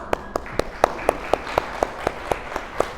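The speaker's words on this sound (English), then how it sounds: "We should give EFSUN a big round of applause" Clapping at an art exhibition talk: sharp, evenly spaced claps about four per second, crisp and close, standing out against a faint room background.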